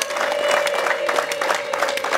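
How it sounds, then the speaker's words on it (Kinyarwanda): Wedding guests at a Rwandan ceremony clap in a brisk, continuous round of applause, a steady crowd patter with a faint sustained tone running beneath it. "mumwongera amashyi n'impundu"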